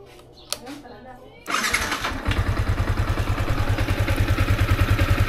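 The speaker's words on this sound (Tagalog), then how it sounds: "start na natin tong motor mga tol" A Yamaha Sniper 155 motorcycle with an overheating fault, getting a coolant flush, cranks after a short quiet spell and a click. The engine catches and settles into a loud, steady, rapid idle close by.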